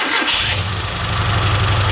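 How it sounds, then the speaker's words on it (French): A freshly refitted car engine, still cold, is started. It cranks briefly, then catches and settles into a steady, rumbling idle, loud and close, with no voices. "Je vais mettre en route le moteur."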